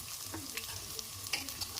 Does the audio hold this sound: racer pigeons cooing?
no